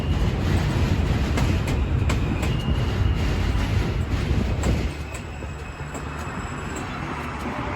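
A New York City subway M train rumbles loudly through a station, with steady rolling wheel noise and rail clatter for several seconds before the roar drops to a lower, quieter level as it moves on.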